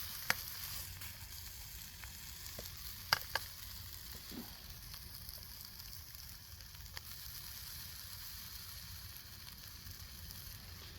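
Bratwurst and onions fry on a camp stove at a wild woodland camp, a soft, steady sizzle heard faintly with a few small clicks.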